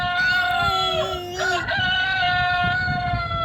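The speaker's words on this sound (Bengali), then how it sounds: "এখানে আবার জন্তুদের যে ডাকটা, সেটাও এখানে" Recorded rooster crowing played from a children's sound book, one drawn-out tonal cock-a-doodle-doo through a small speaker, close and fairly loud.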